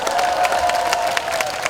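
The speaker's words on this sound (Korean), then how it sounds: "이병서 회원님께 다시 한번 격려의 박수 부탁드립니다" An audience at a rally clapping loudly and steadily, a dense, close patter of many hands with a faint sustained tone underneath.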